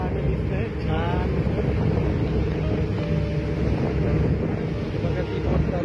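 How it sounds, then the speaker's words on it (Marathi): A motorboat runs at sea off Gulhi Island in the Maldives, its steady engine drone blending with wind buffeting the microphone and splashing water throughout, with faint voices in the background. "बघा ती बोट चालू आहे"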